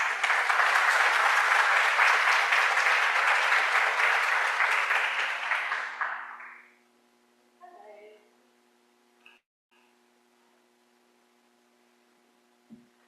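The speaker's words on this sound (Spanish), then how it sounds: "los recibimos con fuertes aplausos" Loud, dense applause from a conference audience fills the first six seconds, then fades out, leaving near silence with a few faint stray sounds.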